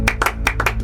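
Congregation clapping in rhythm to acclaim God at a church service, four or five sharp, close claps in quick succession.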